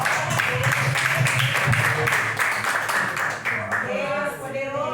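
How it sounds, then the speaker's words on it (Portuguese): A church congregation applauding loudly, dense steady clapping from many hands filling the room, then fading as a voice rises over the end. "Recebeu o presbítero com as palmas bem fortes"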